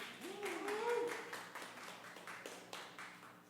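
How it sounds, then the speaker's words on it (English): Audience applause for Kitsap Regional Library at a story night event, a soft, steady patter of many hands clapping with faint voices and calls mixed in, moderately distant throughout. "Please, a round of applause for Kitsap Regional Library."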